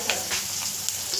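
Curry leaves and dried red chillies crackle and sizzle in hot oil for a spinach tempering, a steady hiss with small pops, close and moderately loud.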